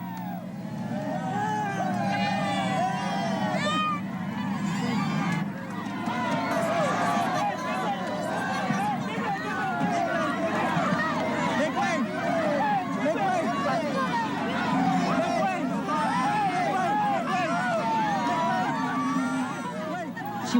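Outdoor crowd of Imelda Marcos supporters gathered around her in Hawaii exile, a dense, continuous babble of many voices with chatter and calls, steady and moderately loud throughout.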